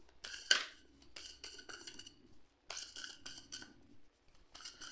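Tarot cards shuffled roughly by hand, giving crisp riffling and snapping bursts in quick clusters with brief pauses between, close and fairly quiet with no talking.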